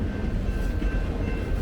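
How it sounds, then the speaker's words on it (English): A train rolling past on the railroad beside Route 66 in the California desert, heard as a loud, steady rumbling roar with a faint high tonal whine, continuous throughout with no talking. "Being stuck on Route 66, train coming by."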